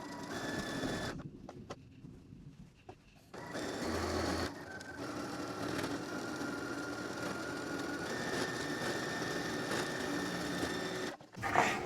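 A sewing machine stitching seams on a handmade quilt being upcycled into tote bags, running in a steady mechanical whir with a short stop and restart, then a long continuous run close up.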